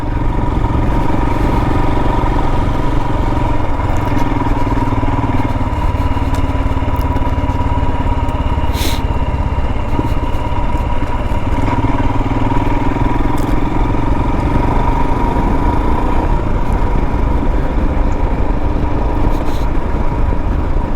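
A 2022 Royal Enfield Himalayan motorcycle ridden on a country road during its break-in period, its engine holding a steady, low-rpm drone loud and continuous throughout, with wind noise and no talk.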